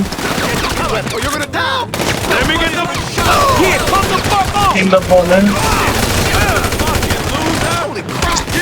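Rapid bursts of GTA 5 gunfire crackle loudly and repeatedly, while a voice talks over the shooting.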